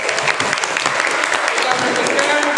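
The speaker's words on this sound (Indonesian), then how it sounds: "Oke, tepuk tangan untuk kelompok 3" A classroom group claps for the third presenting team at the end of their talk, a steady dense patter of many hands throughout with a few voices mixed in.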